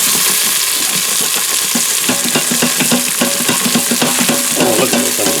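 Spices scraped off the bottom of an Instant Pot into sizzling onions, a loud, close, continuous fry with repeated scraping and stirring strokes of a utensil against the metal pot, no talking.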